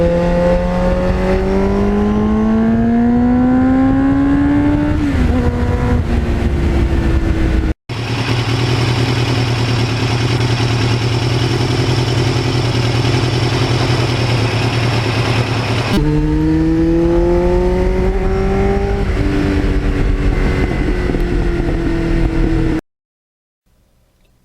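Kawasaki Ninja motorcycle engine under way, loud and close, with rising gear-by-gear revs, a steady cruising drone mid-clip, then more upshifts before cutting to silence near the end.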